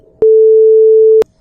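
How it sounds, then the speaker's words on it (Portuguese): A loud synthesized 440 Hz sine wave tone, a pure steady note lasting about a second with clicks at its start and end, alone. "Isso quer dizer que ela tem uma frequência de 440 Hz"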